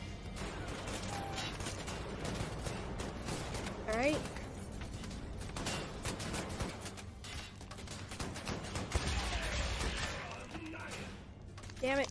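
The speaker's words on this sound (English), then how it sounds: "I am gonna use the shotgun, actually." Shotgun blasts and mechanical clanks from a World War II–style first-person shooter, dense repeated bursts with metallic reload clatter layered throughout, a commentator talking over the action.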